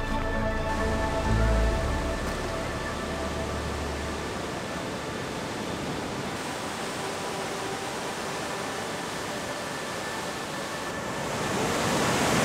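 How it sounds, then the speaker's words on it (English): Roaring water of Huka Falls waterfall in New Zealand, a steady loud broadband rush that fills the whole stretch without a break and swells slightly near the end. "you're gonna hear me from the roaring of the water anyways"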